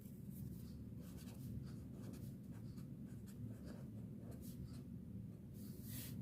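Quiet scratching and tapping of writing on a board during a maths lesson, faint and continuous against a low background hum.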